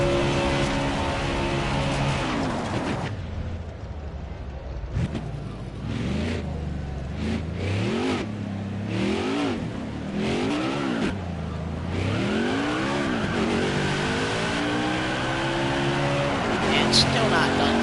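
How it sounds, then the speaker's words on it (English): A NASCAR Xfinity Series race car does celebratory burnouts at Las Vegas Motor Speedway, its engine revving hard in repeated rising and falling surges, loud and close, with a commentator talking over it throughout. "He's gonna do some burnouts on it."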